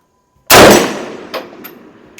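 A single loud rifle shot from an Enfield No. 5 Mk1 jungle carbine or a Chinese Type 56 SKS fired at an outdoor target, a sharp crack followed by a decaying echo and a faint metallic ping of the hit moments later.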